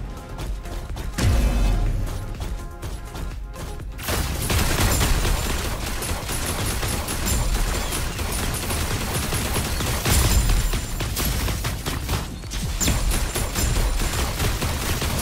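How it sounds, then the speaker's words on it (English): Gunfire in the mech battle video game Super Mecha Champions, dense rapid automatic bursts and impacts going almost without pause, loud and close, with a short quieter stretch near the start. "Keep shooting everything that moves."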